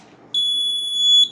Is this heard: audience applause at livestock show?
no